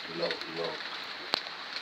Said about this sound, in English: It's absolutely throwing it down with rain at the moment.